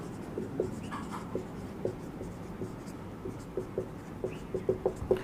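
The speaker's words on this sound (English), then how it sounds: "again I am drawing a triangle" A pen drawing a triangle on paper, faint close scratchy strokes in short bursts that pick up pace toward the end, with no talk.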